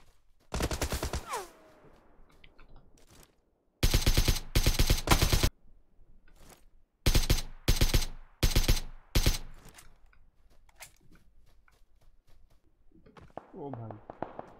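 Bursts of automatic rifle fire in PUBG PC Lite, with an AKM in play, come in several loud rapid volleys separated by pauses, and a voice speaks briefly near the end.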